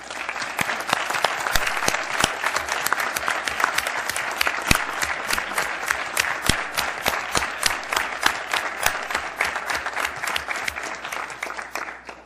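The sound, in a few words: audience applauding the election board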